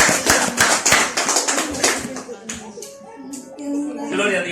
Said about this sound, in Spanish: Démosle fuertes palmas al Rey de Reyes